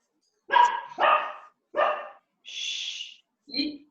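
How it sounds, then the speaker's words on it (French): A dog close by barks five times in an uneven burst, sharp and loud against an otherwise quiet tai chi class. "Il y a un chien là qui est... On entend?"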